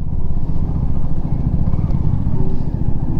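Steady, loud broadband rumble of a CF Moto 300SR motorcycle being ridden, with heavy wind noise buffeting the microphone throughout and no clear voice over it.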